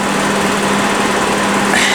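Small Honda EX1000 generator engine running after a carburetor clean, a loud, steady buzzing drone close to the microphone with a slight rise near the end, no talking.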